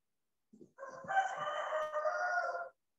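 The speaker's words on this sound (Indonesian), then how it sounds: "Loh jadi ada suara ayam." A rooster crows once, a fairly clear, sustained call of about two seconds after a short throaty lead-in, heard alone without talk.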